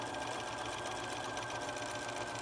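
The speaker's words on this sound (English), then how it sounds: "we're going to stitch on the line between sections 5 and 6 using that short stitch" Sewing machine running a short stitch across a foundation paper-pieced quilt block, a steady, even mechanical whir heard close and alone.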